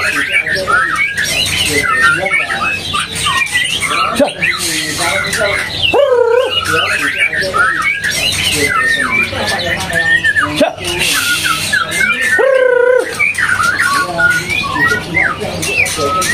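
A greater green leafbird (cucak ijo) calling at a bird market stall, with squawky, warbling phrases repeated throughout and someone speaking over much of it.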